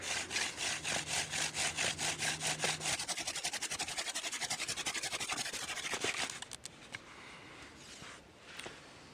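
A wooden spindle spun between the palms on a wooden hearth board for a hand drill friction fire, a rhythmic scraping rasp that speeds up into a continuous whir, then fades into a few faint scuffs.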